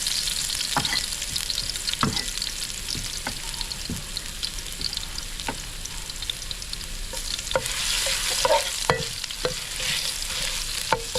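Ingredients fry in a pan with a steady hiss and sizzle, broken by frequent stirring scrapes and clinks of a utensil, growing a little louder toward the end.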